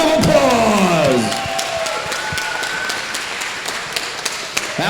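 Crowd applause and cheering for two lightweight fighters after a bout, loudest at the start and then fading into a softer, sustained clatter of claps.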